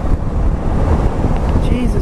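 Strong headwind roars steadily across the microphone while riding a BMW G310GS motorcycle on the road, a dense, continuous low buffeting that fills the whole stretch with no break.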